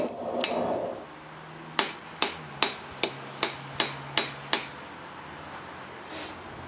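Hammer striking Damascus steel during forging: eight sharp, ringing metallic blows in an even, quick rhythm, close and clear, after a brief stretch of quieter noise.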